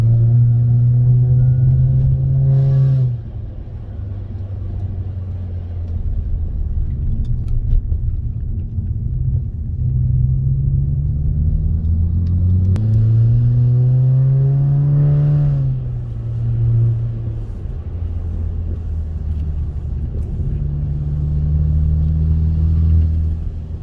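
A car engine drones steadily under load while climbing uphill on the Genting road in Malaysia, the pitch rising as it revs, easing off as the throttle is lifted, then climbing again; loud and close.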